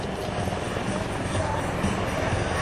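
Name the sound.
helicopter moving in at US Air Force demonstration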